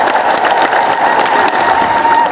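A congregation at an Ethiopian Orthodox church sermon claps together in a dense, loud, continuous burst of applause that fills the hall.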